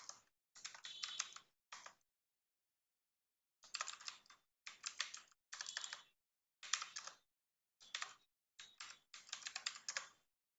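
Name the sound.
typing on a computer keyboard in MS Word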